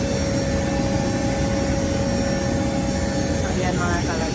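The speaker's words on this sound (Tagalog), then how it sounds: "Naghihintay lang kami na paakyatin kami sa aeroplano." Airplane jet engines drone steadily near an airport boarding area, a loud, constant low roar with a whining tone that holds without a break for the whole stretch.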